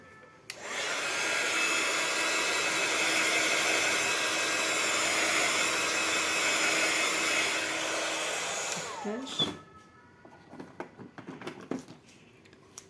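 A hair dryer blows steadily on a handmade paper bookmark, a loud continuous whoosh for about eight seconds before switching off, followed by faint handling taps and rustles.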